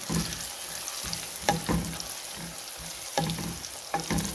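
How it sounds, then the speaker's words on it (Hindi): Onions sizzle in hot oil with turmeric powder as a spoon stirs them, a steady loud frying hiss broken by regular scraping knocks of the stirring. "प्याज हमारा सुनहरा होना स्टार्ट हो गया है, साथ ही मैंने इसमें हल्दी पाउडर ऐड कर देना है"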